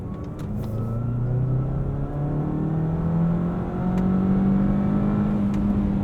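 A 2020 Volkswagen Jetta GLI with a six-speed manual climbs steadily in revs on the autobahn, a loud sustained engine drone rising in pitch over road rumble inside the cabin.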